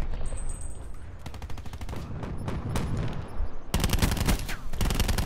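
Rapid bursts of gunfire in a first-person shooter match, sustained rattling volleys with sharp repeated cracks, loud and close, a heavier stretch near the end, with no talk over it.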